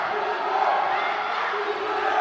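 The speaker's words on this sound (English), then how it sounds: "You can hear the Seylan crowd." Seylan Bank supporters roar continuously at a men's A Division basketball semifinal in the MSBA league, a dense, loud crowd din with cheers and shouts swelling throughout.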